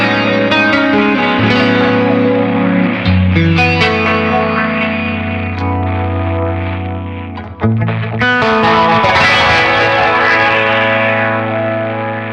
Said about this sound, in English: And lo-fi noise, that's a completely different one